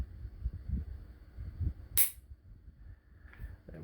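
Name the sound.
Army Armament R501 airsoft pistol shots fired one-handed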